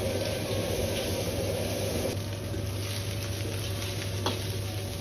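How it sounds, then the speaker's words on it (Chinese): Beef tripe dry-frying in a hot wok to drive off its surface water, producing a constant loud sizzle and hiss with occasional stirring scrapes, heard alone without talk. "主要是炒出牛肚表面多余的水分"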